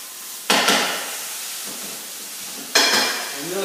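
Rice noodles and leftover vegetables with spinach are stir-fried in a pan. Two sharp bursts of sizzling mark ingredients hitting the hot pan, with a steady low hiss of frying between them.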